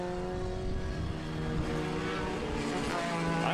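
A Group 3/6 race car blurs past on the track at the O'Reilly Auto Parts Grand Prix, its engine a loud sustained roar that sweeps in pitch as it goes by, with no talk over it.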